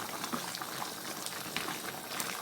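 Chicken tikka cooks over high heat as its water boils off, giving a steady, moderately loud bubbling sizzle that continues without pause and without voices.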